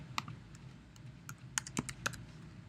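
Fingers type on a computer keyboard, a handful of crisp, close clicks in an uneven rhythm over a quiet background.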